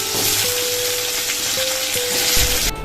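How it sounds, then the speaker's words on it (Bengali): Steady hissing sizzle of whole cumin, dried red chillies and bay leaves frying in hot oil, loud and close, with faint clinks of a utensil. "এই দেখো তেলে দিয়ে দিচ্ছি গোটা জিরা শুকনো লঙ্কা তেজপাতা"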